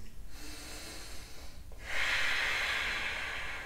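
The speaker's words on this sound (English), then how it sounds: "Deep breathing through the nose, into the abdomen, up to your chest" Deep breathing through the nose during a vinyasa yoga flow, a soft nasal breath followed by a longer, louder rushing inhale, close to the microphone with no talking.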